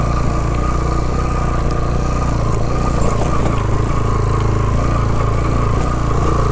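A motorbike crossing a river in Utror Valley, Kalam, Swat: a steady, close engine drone runs throughout, with faint water and rattling noise mixed under it and no talking.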